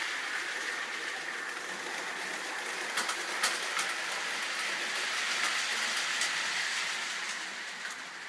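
A small model train rolls steadily along its track with a soft, continuous whirring rumble and occasional light clicks, no voices.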